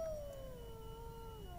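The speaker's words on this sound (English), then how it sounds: "Oh, look, wolf howl." Wolf howl in the online game LOTRO, a single long, clear, slowly falling howl heard alone over faint ambient background.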